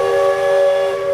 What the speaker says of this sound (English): so that this steam engine can make its way around the park